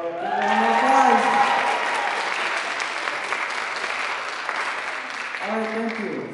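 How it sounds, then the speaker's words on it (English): A school audience applauds steadily after a show, a dense sustained clapping that fills the room for several seconds, with a voice speaking over the start and end. "So give them a applause."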